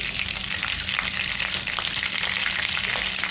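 Asafoetida dropped into hot oil for a pea and paneer curry crackles and sizzles continuously, up close and fairly loud, with faint stirring clicks scattered through the frying hiss.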